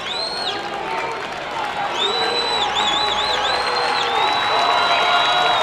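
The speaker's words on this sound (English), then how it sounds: "The Ithaca crowd, you can hear them on their feet." A high school baseball crowd at a state tournament game cheers on its feet, a sustained roar with shrill whistles and whoops rising over steady clapping and shouting, loud and continuous throughout.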